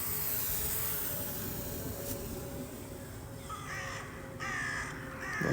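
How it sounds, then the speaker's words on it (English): Crows caw over a city during a late November drone flight, several harsh calls coming in toward the end above a steady hiss of wind and distant traffic. "Don't like the birds."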